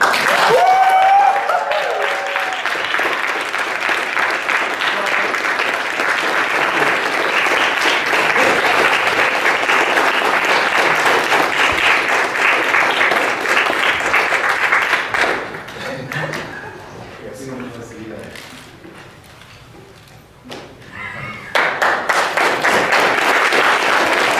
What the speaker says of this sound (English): a round of applause for everybody that competed today.